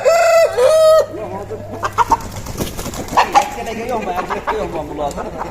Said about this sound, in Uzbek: Xo'rozlarni chiqib kelishini qarang.